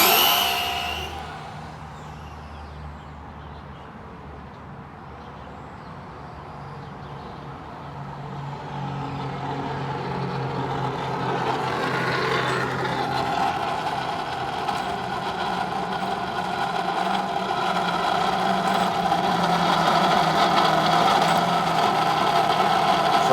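Traxxas Drag Slash RC truck running on 3S, its electric motor and drivetrain rising into a loud, sustained whine as it launches and accelerates, with broadband roar building and holding steady through the run.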